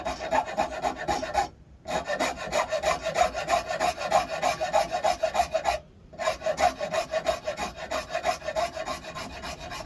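Hand carving of a mahogany guitar neck, a steady rhythmic rasping of a file or rasp on wood in continuous strokes, close and fairly loud, with two brief pauses.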